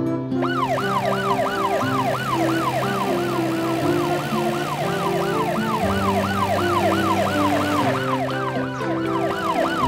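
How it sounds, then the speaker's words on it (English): A cartoon ambulance siren wails in rapid repeating up-down sweeps, loud and continuous, over a bright musical backing. "The ambulance is coming out of the helper car's garage."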